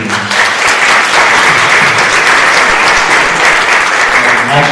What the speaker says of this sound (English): I think a round of applause for Chris first.